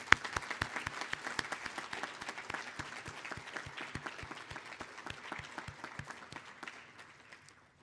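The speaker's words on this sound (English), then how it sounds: "join me in a round of applause for our parents and" Applause for parents and families at a Grade 8 baccalaureate ceremony, steady rhythmic clapping from a crowd lasting several seconds and tapering off at the end.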